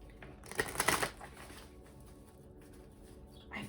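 A deck of cards is shuffled in one quick, crisp burst of riffling up close, followed by near silence.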